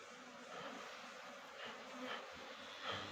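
A dense, steady buzzing of many honeybees close by, droning continuously without pause, with no voices.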